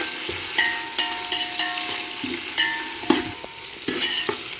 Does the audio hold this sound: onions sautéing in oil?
yes